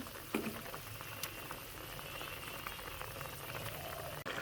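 Bengali fish curry simmers in a pot, a soft steady bubbling with faint pops and a couple of clinks, heard alone without talk.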